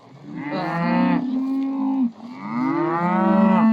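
Beef cows bellow up close, two long loud moos one after the other, with a deep drawn-out tone that rises and falls.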